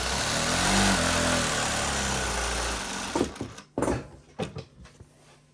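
A Juki LZ-2284 single-needle lockstitch industrial zigzag machine sews a 3-step zigzag at 4 mm stitch length: a steady, close mechanical whirr for about three seconds, then it stops and a few brief clicks and handling knocks follow.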